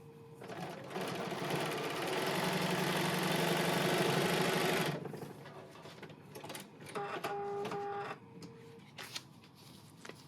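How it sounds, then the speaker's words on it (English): A sewing machine stitches a paper-pieced sunflower quilt block in one loud, steady run for about five seconds, then stops. Quieter fabric handling and faint clicks follow. "And so we'll go ahead and stitch this."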